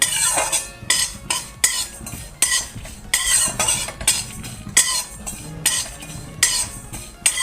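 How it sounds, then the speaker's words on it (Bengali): Spices are stirred while lightly dry-roasting in a hot wok over a low flame: rhythmic scraping and clinking of a metal spatula against the pan, repeated strokes every half second or so over a soft sizzle. "হালকাভাবে নাড়তে থাকবো"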